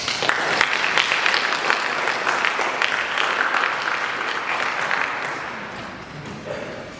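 A school career-panel audience gives a steady round of applause, dense clapping from many hands that gradually thins and fades toward the end.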